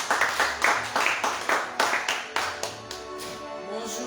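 An audience at a church convention applauds as a woman steps up to speak, the claps coming in steady, rhythmic bursts at moderate distance. The clapping fades at the end into quieter room sound.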